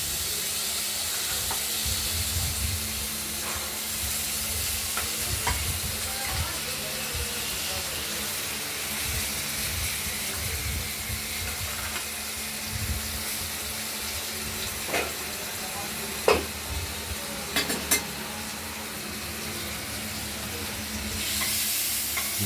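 Potatoes fry in a pan of oil spiced with chilli, bay leaf and cumin, making a continuous close hiss and sizzle. Near the end come several sharper clinks of a utensil against the pan.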